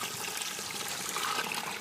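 Water spilling over the rim of a watering bucket buried among tomato plants in a garden, a steady close trickle and splash running continuously without a break.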